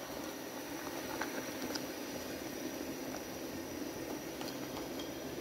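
Egg and soybean curry with onion paste and spices sizzles and bubbles in a pan, a soft continuous frying hiss with faint pops, no talk.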